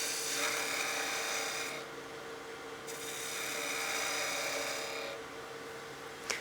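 A turning tool scrapes steadily against a spinning wooden wine glass on a lathe, lengthening a fillet, giving a continuous close hiss and rasp with brief pauses as the cut lifts off.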